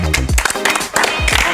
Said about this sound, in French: C'est sympa hein, les applaudissements